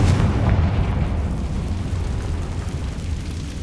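Explosive Bombarda and Confringo spells blast in Hogwarts Legacy on PS5, a loud, sustained booming rumble that rolls on without pause and slowly fades, with no voices.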